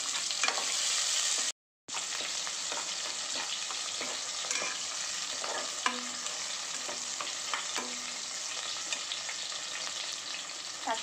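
Small shallots and green chillies fry in hot oil with mustard seeds and white urad dal for a brinjal and toor dal dish, giving a steady, soft sizzle with occasional stirring clicks. Brief silence near the start, no talking.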